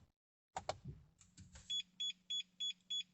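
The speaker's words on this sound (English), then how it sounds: "Receive 5 bleeps." A Starline i96v2 immobiliser fitted to a Mercedes E Class gives five short, evenly spaced electronic bleeps. They follow a few clicks and a low hum from the car's electrics, heard close up in a quiet cabin.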